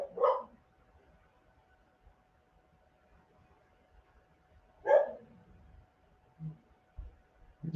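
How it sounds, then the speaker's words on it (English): A puppy gives two short, sharp barks several seconds apart, fairly close in a quiet indoor setting, followed by a couple of faint soft thumps. "puppy's bark"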